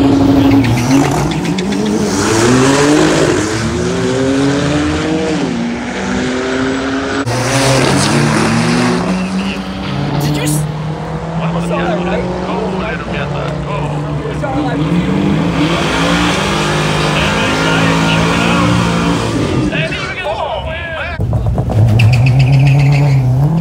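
A turbocharged Mazda Miata and a Porsche race at a dragstrip, loud engines revving and accelerating through rising gear sweeps with brief tire squeal, close and continuous, with people talking over the noise.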